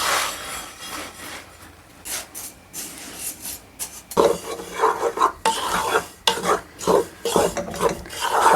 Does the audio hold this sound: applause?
no